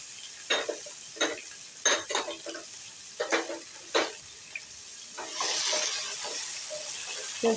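Chopped tomato and red capsicum land and are stirred in a hot pan: a series of separate scraping clatters, then a steadier sizzle rises over the last couple of seconds, fairly quiet overall and without speech.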